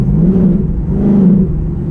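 A 2018 Ford Mustang with a Stage 2 Whipple supercharger and 10-speed automatic revs up, a loud, close, low engine drone that rises in two short surges with no speech over it.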